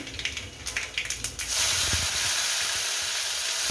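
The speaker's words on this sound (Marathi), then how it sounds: "तेल खूप गरम झालेलं आहे. आणि आता टाकते आहे मोहरी आणि ही हिरवी मिरची अद्रक लसणाची पेस्ट आहे" Mustard seeds, green chili and ginger-garlic paste dropping into very hot oil for a pumpkin stir-fry, with a few crackling pops giving way to a loud, steady hiss that fills the rest of the moment, no voices.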